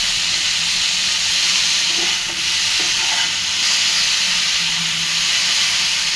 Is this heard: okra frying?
yes